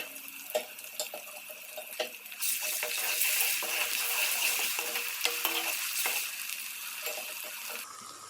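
Ginger-garlic paste frying with lightly browned onions for deghi-style palak gosht: a steady loud sizzle swells after a couple of seconds, with scattered stirring scrapes and clinks throughout and no talking.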